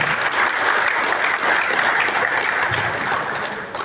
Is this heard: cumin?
no